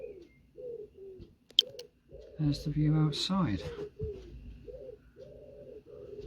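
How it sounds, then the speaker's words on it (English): Pigeons coo outside a window in a repeated soft, rhythmic series of low hooting calls, fairly close and clear, with a brief spell of talk in the middle. "Listening to the pigeons."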